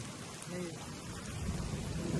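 Steady monsoon rain hisses throughout on Banner Hill in Pune, with a low rumble underneath, like a heavy downpour outdoors.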